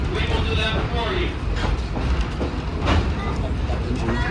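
A Hocking Valley Scenic Railway heritage train rumbles into the station at Nelsonville, with loud continuous low rolling noise, clanks and brief wheel squeals close by.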